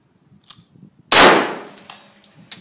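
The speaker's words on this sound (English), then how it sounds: "Shoot the other one." One sharp, loud gunshot rings out at close range during shooting training, its echo trailing off, with light clicks and handling noises before and after.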